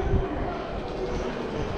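A train pulls in at a platform at Ueno Station in Tokyo with a steady, loud rumble of wheels and carriages, and a brief low thump at the start.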